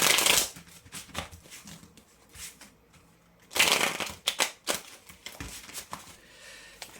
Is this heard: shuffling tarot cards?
yes